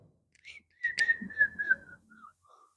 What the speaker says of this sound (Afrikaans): Hulle leer ons fluit as 'n mechanic.